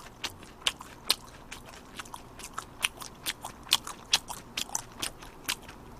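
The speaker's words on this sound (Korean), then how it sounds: "이게 참 바삭바삭한 것 같아. 음, 네, 포테이토 버거가." Crunchy fried potato burger bitten and chewed close to the mic, a rapid series of sharp crisp crackles and crunches in an irregular chewing rhythm, with no talk over it.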